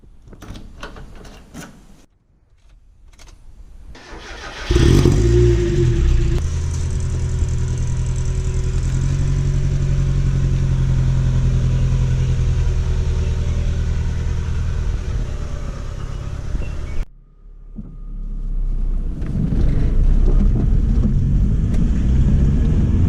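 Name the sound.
Mazda MX-5 car engine while driving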